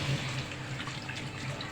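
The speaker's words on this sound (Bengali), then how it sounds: "এখন আমি ঝোলের পানিটা দিয়ে দিচ্ছি" Hot water poured into a pan of braised duck meat curry, a brief soft continuous splashing and trickling at moderate level with no talk.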